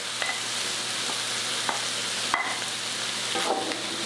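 Grated ginger and garlic being stirred into pork frying in a pan, a steady close sizzle with light scraping strokes of a utensil and one sharper clack partway through.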